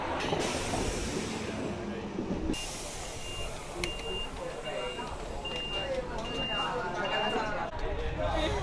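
Steady rumble and rattle of a train rolling along the rails near Sorrento, Italy, with a faint beeping tone repeating several times and indistinct voices in the carriage.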